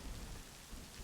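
Rain played as background ambience, a steady dense hiss of heavy rainfall with low thunder-like rumble, faint and continuous with no talking.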